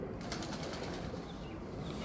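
Pigeons on a rooftop: a soft, steady rush of wings and faint bird sounds, fairly close, with no talk.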